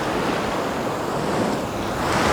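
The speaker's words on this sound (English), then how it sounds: "He's waiting for the waves, you see." Ocean surf washes continuously along the Kimberley coast of Western Australia, a dense steady roar of breaking waves mixed with wind buffeting the microphone, with no voices over it.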